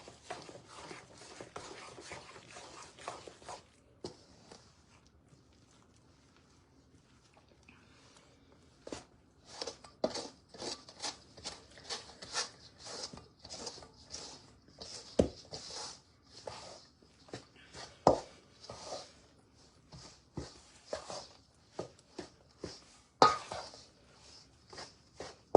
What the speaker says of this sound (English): And then I'm going to start stirring until most of the moisture is absorbed by the flour